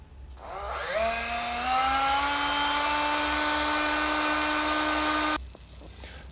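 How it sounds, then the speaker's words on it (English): Small high-speed drill whines up to speed and holds a steady, piercing tone while a 1mm bit enlarges a hole in a motorcycle brake master cylinder, close and continuous before stopping abruptly. "I'm just going to enlarge that hole to 1mm"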